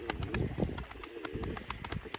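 Pigeons coo softly close by, with rhythmic throaty calls repeating over a busy background of birds rustling and flapping.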